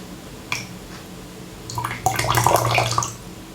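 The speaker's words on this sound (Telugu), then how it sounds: "సో దీన్ని కూల్ వాటర్లో డిప్ చేద్దాము." An air cooler filter pad is dipped into cool water. A brief splash is followed about a second later by a burst of close-up sloshing and splashing that lasts over a second.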